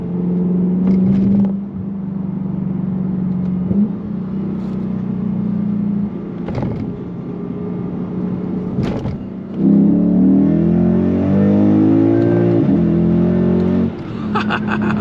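A Lexus GS-F V8 fitted with an RR Racing crank pulley kit, heard from inside while driving: a steady engine drone broken by several sharp blips during downshifts, then a rising rev surge near the end.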